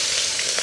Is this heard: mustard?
yes